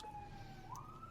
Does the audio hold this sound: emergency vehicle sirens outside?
yes